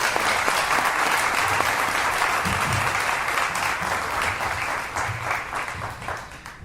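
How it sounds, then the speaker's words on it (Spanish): Loud, sustained applause from a crowd, steady dense clapping that fades slightly toward the end. "Un fuerte aplauso a Lorenzo."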